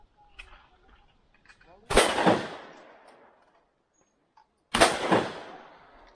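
Two loud blasts from an MP-155 shotgun at a shooting range a few seconds apart, each with a sharp crack and rolling outdoor echo, with faint voices before the first.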